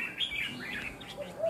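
Red-whiskered bulbuls give bright chirping calls and warbling phrases, several close, clear notes in quick succession with a few softer calls near the end.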